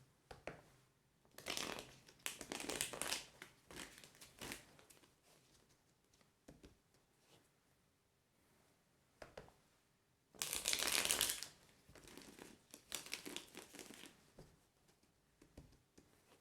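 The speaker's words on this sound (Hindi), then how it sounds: "Let me shuffle" Tarot cards are shuffled by hand in short riffling bursts, close but quiet, in several separate rounds with pauses between them and a longer, stronger shuffle near the middle.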